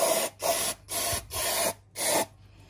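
Drain hole on the engine of a 2022 ODES ATV 800 being flushed with a spray cleaner, five close, hissing spray bursts in a steady on-off rhythm, each lasting about a quarter second.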